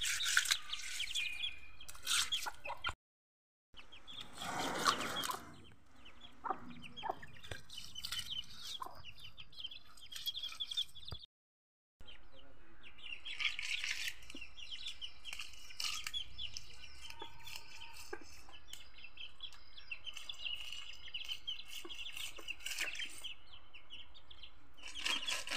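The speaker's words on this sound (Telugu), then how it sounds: "కోడి పిల్లని పిలుస్తుంది," A hen clucks repeatedly to call her chicks, with soft intermittent chirps and clucks sounding close against quiet surroundings, broken by two short silent gaps.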